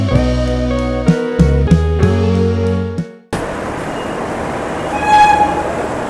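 After a stretch of music, the Sealdah to Delhi Sampark Kranti Express rolls into Gaya station with a steady broad rumble and a brief horn-like tone near the end, no voices.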